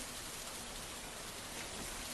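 Heavy rain in Solapur, Maharashtra, pours down as a steady, dense, even hiss with no breaks and no voices.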